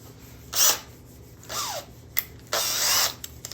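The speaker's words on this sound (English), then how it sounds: "Drill a couple of holes here real quick." Power drill boring a couple of quick holes, three short whirring bursts separated by pauses, with small clicks and taps between them, close and fairly loud.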